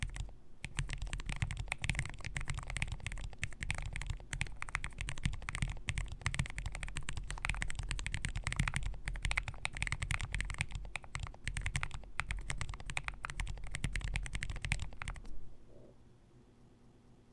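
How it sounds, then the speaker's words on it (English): Continuous fast typing on a Chosfox Geonix Rev 2.5 keyboard with white rain switches, a dense, close patter of keystrokes that runs steadily and then stops abruptly near the end, leaving quiet. "So what we're gonna do is go do a typing test"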